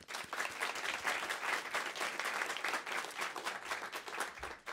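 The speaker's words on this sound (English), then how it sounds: "Another round of applause for Chris and for Anna" Steady audience applause from a crowd at a talk event, many hands clapping together in a dense, even wash that holds for several seconds and tapers slightly at the end, heard fairly quietly without speech.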